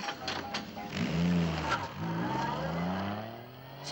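A car pulls away and drives off, its engine droning loud and steady with rising and falling pitch, no voices over it.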